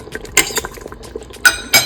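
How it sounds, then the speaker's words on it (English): Meatballs dropped one by one into tomato sauce in a pot, producing a few soft plops and clinks at irregular intervals with short quiet gaps between them. "We're just adding all the meatballs to this yummy sauce right now"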